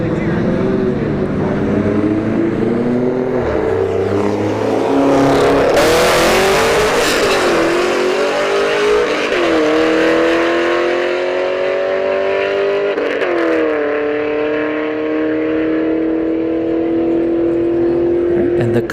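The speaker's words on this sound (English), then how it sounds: "And the Camaro takes the win at 117 miles an hour." Drag racing cars with a Chevrolet Camaro blasting down the strip at a Bradenton motorsports park, a loud sustained engine roar with rising gear-change sweeps and a crowd-noise surge midway, with an announcer talking over it.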